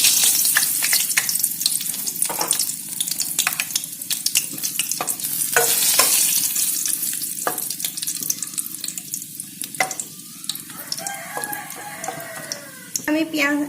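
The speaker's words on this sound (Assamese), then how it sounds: "এতিয়া তেল গৰম হ'ল, তেজপাত আৰু গোটা মছলা কেইটামান দি লৈছোঁ।" Bay leaves and whole spices crackle and sizzle in hot oil, a steady loud fry with frequent sharp pops and spatters that runs continuously from start to finish.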